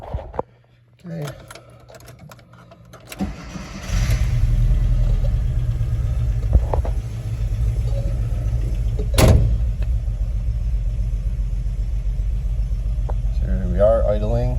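A few clicks and thumps, then a 1989 Volkswagen Vanagon engine starts and settles into a steady low idle rumble around 1,000 RPM, with a short rev near the middle.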